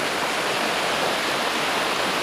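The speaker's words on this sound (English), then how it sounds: "The river is quite busy." A swollen river in flood at Washford, West Somerset, rushes with a steady, dense roar of churning water that stays constant throughout with no voices.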